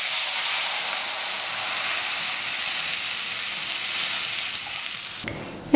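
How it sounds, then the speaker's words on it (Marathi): Water poured into a hot tempering of spices with turmeric for varan phal sizzles loudly and steadily as a broad, close hiss, stopping abruptly near the end. "आणि आता आपण या फोडणीमध्ये पाणी घालूया."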